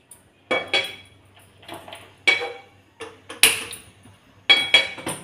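A metal pan is handled before cooking in a home kitchen, giving a string of sharp clanks and ringing clatters at irregular intervals, each fading quickly into quiet.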